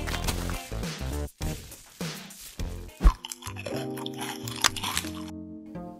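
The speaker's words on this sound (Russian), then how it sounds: "Кто это жует посреди ночи?" Someone bites and chews a donut at night, with loud close crunching bites and wet chewing in uneven bursts, a sharp bite standing out midway, and no speech.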